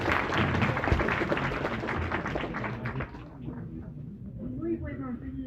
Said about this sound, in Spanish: Un fuerte aplauso, por favor, para la doctora.